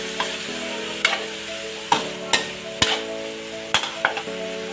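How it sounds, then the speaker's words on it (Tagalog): Ampalaya (bitter gourd) being stirred in a pan, a utensil scraping and knocking against the metal in about eight sharp strokes over a steady hum, close and fairly loud. "So, mix natin ulit siya guys."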